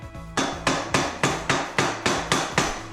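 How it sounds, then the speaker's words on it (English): Nine steady, evenly spaced hammer blows fitting a panel onto a reptile enclosure, loud and close, each a sharp knock with a brief ringing decay; no talking. "Now we hammer it in."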